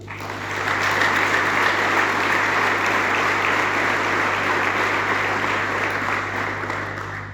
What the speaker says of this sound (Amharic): አጨብጭቡለት ለስሙ።